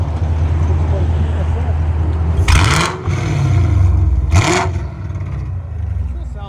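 Cammed 2016 Chevy Camaro SS with a 6.2L V8, long tube headers, no cats and a Hooker exhaust idles with a choppy lope, broken by two sharp throttle blips, close and loud.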